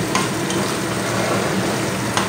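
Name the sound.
sautéing paneer curry with green chillies in a pan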